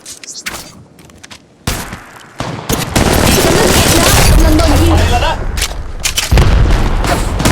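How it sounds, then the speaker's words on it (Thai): Rapid gunfire and booming shots from enemies in the mobile shooter Apex Legends Mobile, loud and sustained through most of the clip, with a player's voice speaking briefly over it. "ศัตรูกำลังยิงใส่"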